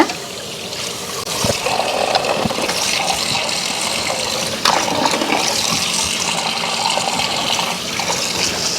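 Varal (snakehead) fish rinsed under running water, a loud, steady gushing pour that continues without a break.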